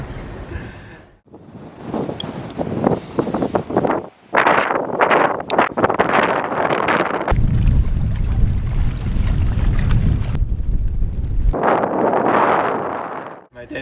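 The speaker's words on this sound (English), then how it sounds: "On a very windy anchorage, it was blowing over 20 knots the entire time." Strong gusting wind at a sailboat anchorage, blowing over 20 knots, buffets the microphone with loud rushing roar and flapping, while a voice talks early on.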